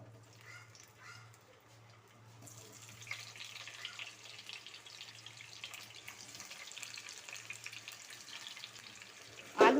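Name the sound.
potatoes frying in hot mustard oil in a wok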